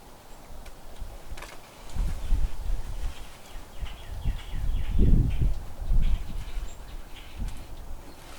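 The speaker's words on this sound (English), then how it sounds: "Can you hear all the birds?" Birds chirping outdoors near bird feeders, faint scattered calls over rustling and low handling noise close by.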